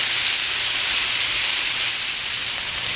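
Marinated steak sears on a hot Blackstone griddle top, a loud, steady broadband sizzle and hiss that holds without a break from start to finish.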